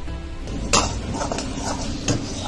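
Sauces for vegetable Manchurian being stirred in a metal pan, with scraping and a few sharp clinks of the spoon against the pan over a low sizzle.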